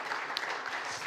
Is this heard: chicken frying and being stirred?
no